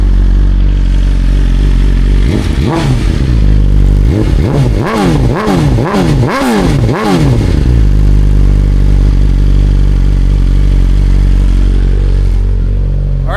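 A 2025 BMW M1000XR fitted with a full Akrapovic exhaust and an 8,000 RPM limiter idles up close, then fires off a quick series of sharp throttle blips before settling back to a steady idle.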